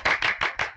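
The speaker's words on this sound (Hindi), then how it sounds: "बेटे ये तालियां किस लिए?" Five sharp hand claps in an even rhythm, close and fairly loud, with nothing else heard.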